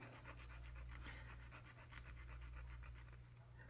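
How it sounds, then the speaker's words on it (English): A small hand saw is drawn back and forth across a tiny wooden part of a Model Shipways Norwegian sailing pram model, making fast, quiet, evenly rhythmic rasping strokes up close over a low background hum. "Yeah, I know I'm sawing back and forth."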